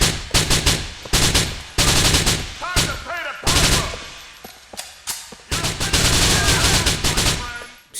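Gunfire in Grand Theft Auto IV, loud bursts of automatic fire in several volleys with short pauses between them, close and sharp, with single shots scattered through.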